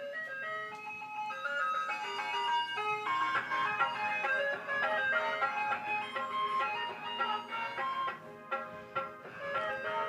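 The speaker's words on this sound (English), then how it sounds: "the ice cream truck just went by, blaring that tune" An ice cream truck passes by at a regatta, blaring its jingly melody continuously over faint background noise, the tune staying clear and moderately loud throughout.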